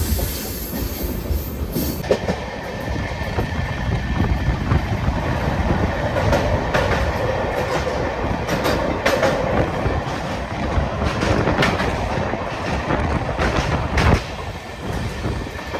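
Guruvayur–Madurai Express with LHB coaches runs through Kerala between Perinad and Sasthamkotta. A continuous heavy rail rumble carries rhythmic clickety-clack and occasional wheel squeal, with sharp clanks along the way, heard steadily from on board.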